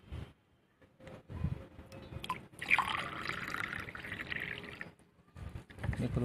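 Water poured from a container into a potted hibiscus plant, a broad splashing trickle lasting a few seconds between quieter moments, close to the microphone, with some talk around it.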